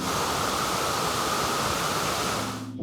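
Dynjandi waterfall in Iceland, seen from the top, pours with a steady, dense, close roar of falling water that holds evenly throughout with no voices.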